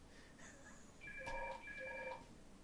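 A faint electronic phone ringtone trilling in short repeated bursts, quiet and slightly distant against a low background hiss.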